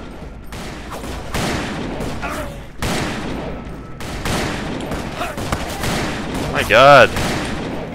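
Gunfire in the Western shooter Call of Juarez on PC, several sharp shots scattered through the clip amid game noise, with someone talking over them.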